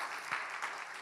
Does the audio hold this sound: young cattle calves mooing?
no